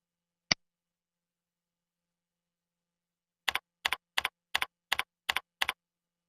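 A single isolated key click, then after a pause a quick run of seven evenly spaced keystrokes on a computer keyboard, close and crisp in silence.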